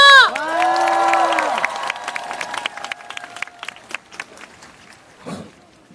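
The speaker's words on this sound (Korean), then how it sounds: "큰 박수로 다음 분 발언 들어보도록 하겠습니다" A rally crowd at a protest against Park Geun-hye bursts into loud applause that fades into scattered claps over several seconds, following a brief stretch of speech at the start.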